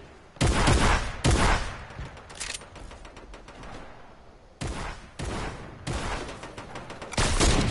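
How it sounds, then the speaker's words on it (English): Rockets and grenades launched in a video game burst out as loud, sharp blasts in irregular clusters, each explosion dropping back to a quieter rumble between volleys. "I start launching fucking grenades down there"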